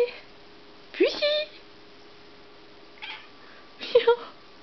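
A ragdoll cat in Tromsø, Norway meows twice, close by in a quiet room. A person's soft calls fall between the meows.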